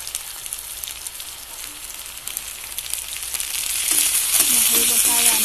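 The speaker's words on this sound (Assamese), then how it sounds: "নহৰু বটা আৰু আদা বটা দিয়া পিছত সেইখিনি ভালদৰে মিহলাই অলপ সময় ভাজিম" Onions with garlic and ginger paste frying in a pan, a steady bright sizzle that grows louder toward the end, close, with faint background sounds and no clear talk.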